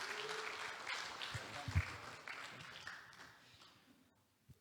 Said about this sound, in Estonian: Tervitame Alanit ka ja Alice'd ka ühe aplausiga